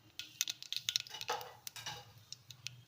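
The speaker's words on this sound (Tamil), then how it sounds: "தேங்காய் எண்ணெயில் கடுகு போட்டுக்கிறேன்" Mustard seeds tempering in hot coconut oil, spluttering with scattered sharp pops and crackles over a soft sizzle, fairly close and moderately loud, with no talking.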